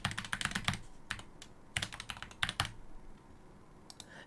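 Quick bursts of keystrokes on a computer keyboard while filling in account sign-up fields, in several clustered runs with short pauses between them, close and clear with no talking.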